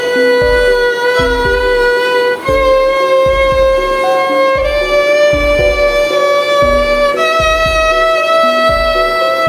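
A bowed violin plays a slow, sustained line with gentle vibrato over a plucked, rhythmic accompaniment, loud and close.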